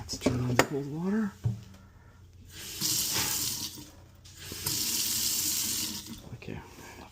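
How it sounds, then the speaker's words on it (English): Cold water gushes from a Moen kitchen faucet into a sink in two steady bursts, turned on and off between them, with someone talking at the start. "Okay, let's turn on the cold water."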